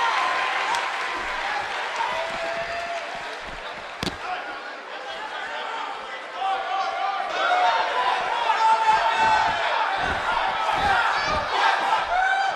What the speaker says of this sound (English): Based on the electricity that's traveling through this arena and decibel level of the crowd